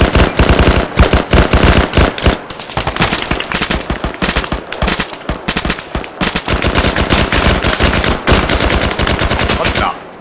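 Rapid bursts of automatic gunfire in a simulated combat operation, loud and close, with repeated staccato volleys and brief pauses over about ten seconds.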